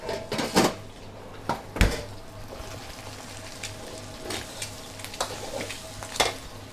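Noodles go into a wok and are stir-fried, with a steady sizzle broken by several sharp metallic scrapes and clanks of tossing, close and moderately loud.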